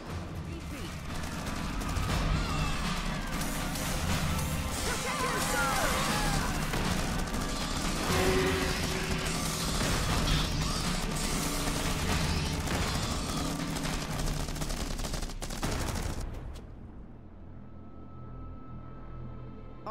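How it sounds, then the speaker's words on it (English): Sustained gunfire from a sci-fi infantry battle in an urban combat setting, dense and continuous, with military radio chatter over the shooting. The din cuts off sharply near the end. "Gunfire ahead! That must be our guys in need of help!"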